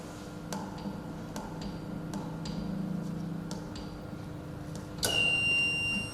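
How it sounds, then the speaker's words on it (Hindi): A control room alarm sounds when a feeder trips after a relay is operated: steady, evenly spaced ticking clicks give way near the end to a loud, sustained electronic alarm tone. "जब भी फीडर ट्रिप होगा इस तरह का अलार्म आएगा।"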